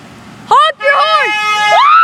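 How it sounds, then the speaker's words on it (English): A car horn honks in steady, sustained tones at a street where passers-by are being urged to honk, while whooping, cheering voices rise and swoop over it at close range. "Honk your horn! Honk your horn! Honk your horn!"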